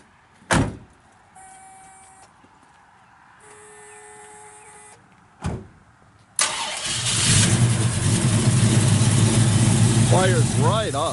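A 1972 Oldsmobile Cutlass Supreme is started: a couple of sharp clicks and a quiet stretch, then the engine catches loudly at once and settles into a steady, rumbling idle close by.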